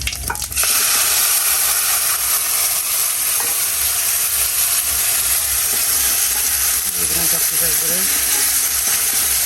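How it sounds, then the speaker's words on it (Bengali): Vegetables and fish go into hot oil already seasoned with cumin, setting off a loud, dense, continuous sizzle close up, with a brief voice faintly underneath. "এবার আমি সব তরকারি মাছগুলো অ্যাড করে দেবো"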